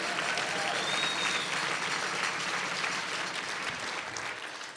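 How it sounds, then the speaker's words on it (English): A round of applause sweeps through a chamber of commerce awards dinner, sustained crowd clapping in a broad even wash that eases off slightly near the finish. "How about another round of applause for the team at Veritas, for the sound, for the videos."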